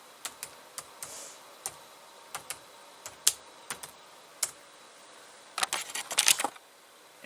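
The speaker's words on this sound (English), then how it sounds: "this is where I gotta type in my password" Keys tapped on a Lenovo ideapad 330 laptop keyboard while entering a password: sparse, quiet, irregular clicks spaced apart, then a quick dense burst of keystrokes near the end, with no talking.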